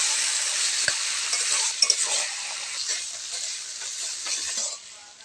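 Vegetables are tipped into hot oil with fried bitter gourd, dried red chillies and panch phoron for a potato, eggplant and pumpkin-stem chorchori. A loud, steady hiss of sizzling is broken by occasional spatula scrapes and clinks.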